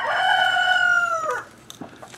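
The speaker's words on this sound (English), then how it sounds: "I think the rooster agrees with me." A rooster crows once, a clear, fairly close cock-a-doodle-doo lasting over a second, followed by a few faint clicks and rustles.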